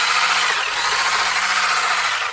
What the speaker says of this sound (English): let's take you over to the whisking station and see if this will actually indeed whisk